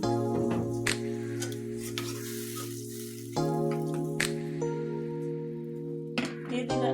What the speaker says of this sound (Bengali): আমার মাছটা কষানো হয়ে গেছে, একটু ঝোল দিয়ে দিলাম।